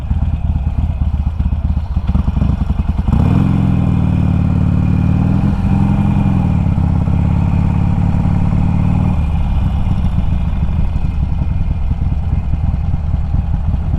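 A new Harley-Davidson Sportster 1200 motorcycle rumbles loud and close, its engine steady then swelling into a stronger revving stretch midway before settling back to a throaty run, with some rattle and clatter throughout.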